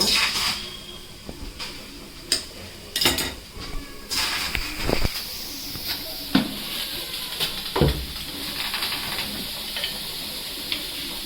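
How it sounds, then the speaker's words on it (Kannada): Tomatoes frying in a little oil in a home kitchen pan for chutney give a steady soft sizzle, broken by a few sharp scrapes and clinks of stirring, with no voices. "ಈಗ ಟಮಾಟಿ ಸ್ವಲ್ಪ ಫ್ರೈ ಮಾಡ್ಕೊಳ್ಬೇಕ್ರಿ"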